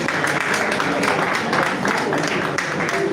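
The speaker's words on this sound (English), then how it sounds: "Clap for yourself once again." Audience applause for about 90 inductees at a Nigerian Society of Engineers Ikeja branch induction, dense steady clapping from a large crowd with a voice over it.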